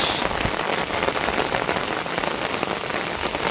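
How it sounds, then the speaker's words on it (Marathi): Heavy rain pours down steadily, a dense, continuous hiss of drops striking surfaces close by, with no voices. "आता जोराचा पाऊस आला आहे"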